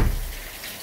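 Steady rain falling in Nice in June, a continuous broadband wash of water, fairly close and unbroken, with no voices over it.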